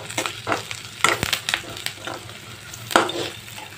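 Onions with ginger and garlic sizzle and fry in a pan, with soft stirring scrapes and a few sharper clinks of the spoon against the pan across the short stretch.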